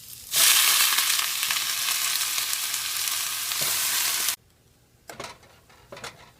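Spinach hits a hot frying pan with onion, garlic, ginger and dried chillies, bursting into a loud hiss that cuts off abruptly, followed by a few quieter stirring scrapes.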